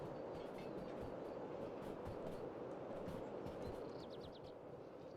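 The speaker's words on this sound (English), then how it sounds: "And this is a crazy long train." A very long, heavy freight train in the Derail Valley simulator rolls along with a loud, steady rumble and faint rhythmic clicking. A few brief high squeals come near the end.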